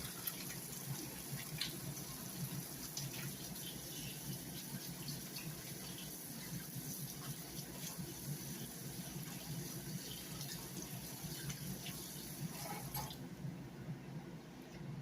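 Water runs steadily from a kitchen tap as hands are rinsed of a pork rib rub, a continuous broadband hiss lasting throughout without talk before cutting off near the end.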